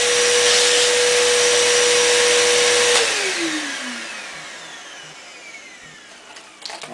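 A vacuum cleaner whines loudly and steadily while pulling air from a Mylar food storage bag, then is switched off and its pitch slides downward as the motor spins down to a quiet end.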